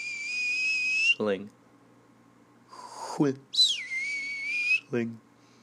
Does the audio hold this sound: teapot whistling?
yes